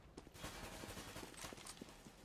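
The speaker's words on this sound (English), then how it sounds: "See the gunshots coming through" Rapid bursts of muffled video-game gunfire in a Counter-Strike match crackle in quick succession, a continuous rattle of shots layered over a noisy background.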